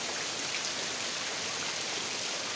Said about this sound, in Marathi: एवढे जोरदार पाऊस पडलेला